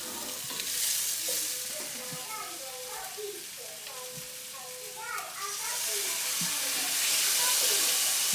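Andouille sausage browning in hot oil in a pan for Louisiana jambalaya, a steady close sizzle and hiss with occasional crackles, swelling louder toward the end, with no talking over it.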